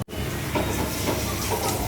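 Bora fritters fry in hot oil with a dense, loud, continuous hiss and crackle, close up, with no voices.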